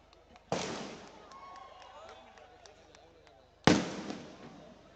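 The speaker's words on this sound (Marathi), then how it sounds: "फटाके नंतर लावा आत्ता लावू नका" Two sharp firecracker bangs at a Dahi Handi gathering, about three seconds apart, each loud and close with a short ringing decay, and a faint background murmur between them.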